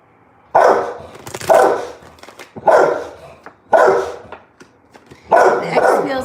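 A dog barks loudly and close by, five separate deep woofs spaced about a second apart, with brief quieter gaps between them.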